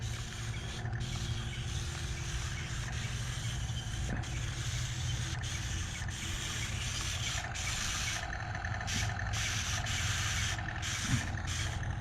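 Small Great Wall Toys 1/72 scale RC tank running at high speed, a quiet steady whirring of tiny motors and gears with no break, softly clicking and rattling throughout.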